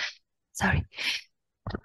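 A single sharp sneeze bursts out in a quiet room during a session calibrating the CWatM hydrological model, followed by a second short burst and a brief apologetic voice.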